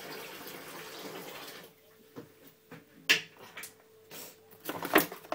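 Hands rinsed under a running kitchen tap while juicing, with a steady close stream for almost two seconds before it shuts off, followed by a few sharp knocks and clatters.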